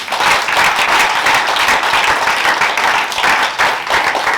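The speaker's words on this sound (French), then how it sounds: "Acclamons pour Jésus." Loud, sustained applause and cheering from a congregation acclaiming Jesus at a church prayer service, with dense clapping carrying steadily throughout without pause.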